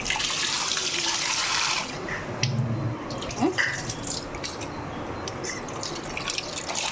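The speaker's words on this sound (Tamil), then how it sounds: "இறா அப்படி தான் கழுவணும்" Raw prawns washed with turmeric under a running kitchen tap give a steady rush of water with splashing and dripping, close by, shifting as hands move the prawns around in the stream.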